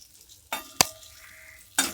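Potatoes and capsicum fry in a pan with a lively sizzle, broken by a few loud spatula scrapes and stirring knocks close by.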